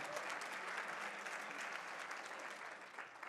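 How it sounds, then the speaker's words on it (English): An audience at a women's leadership event applauds a panel and the day's speakers: a steady, even wash of many hands clapping that holds throughout, heard from some distance and fairly faint. "How about another round of applause for not just this panel, but all of the amazing women that spoke today."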